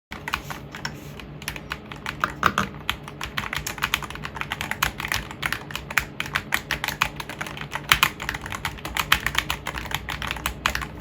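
Fast, continuous typing on a Royal Kludge C96 Hall effect keyboard, with muted key clicks in an irregular rhythm, close and fairly soft.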